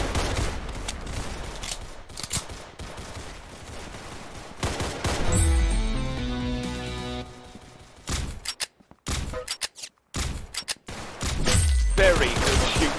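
Pistol shots in a first-person shooter video game, a scatter of sharp reports over the first half, then a musical stretch and intermittent bursts, with voices talking.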